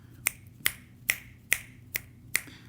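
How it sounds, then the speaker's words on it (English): Six crisp finger snaps in a steady, evenly spaced rhythm, close and clear over a faint low background hum, with no talking. "Let's give her like finger snaps"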